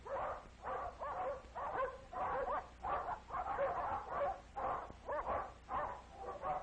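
A dog barks repeatedly in a fast, uneven series, its yips turning whiny and whimpering, fairly close and alone.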